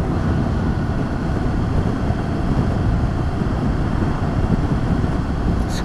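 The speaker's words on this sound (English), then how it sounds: "Quite a windy open road, hopefully the recording will come out all right on this" Heavy wind buffets the microphone of a rider on a VFR800 motorcycle on an open road, a loud, continuous low roar that never lets up, with no speech over it.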